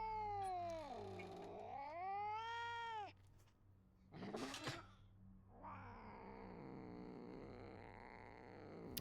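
A cat caught in an animal trap in the video game Junji Ito Maniac: An Infinite Gaol yowls in a long wavering cry, then gives a brief harsh hiss and a sustained lower moan, all close and loud.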